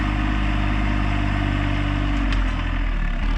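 A tractor engine idles steadily nearby during garden prep, a constant low loud rumble that dips slightly near the end, with no talk over it.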